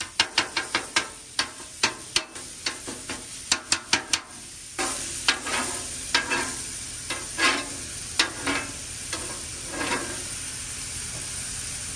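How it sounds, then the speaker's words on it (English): A pound of chorizo is cooked on a flat griddle: a run of sharp metal spatula taps and scrapes first, then a steady frying sizzle with further scrapes, close and without talk. "And I've got a pound of chorizo. And we just gonna cook that up."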